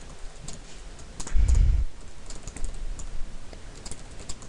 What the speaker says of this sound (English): And then you type up your email